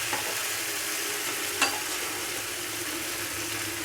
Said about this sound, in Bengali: এখন আমি এর মধ্যে দিয়ে দিচ্ছি যে পেঁয়াজ আর কাঁচা লঙ্কার পেস্টটা ছিল